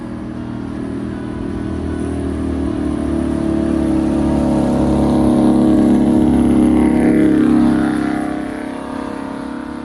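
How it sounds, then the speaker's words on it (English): A two-stroke American diesel engine with blower whine and deep exhaust pulse drones loudly and continuously, swelling in intensity midway before easing off, heard close with no voices. "that specific combination of blower whine, 2-stroke clatter, and deep exhaust pulse, became the most iconic voice in the history of the American diesel engine"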